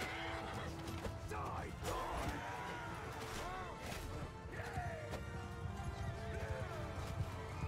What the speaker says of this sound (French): Apportez-moi un canasson!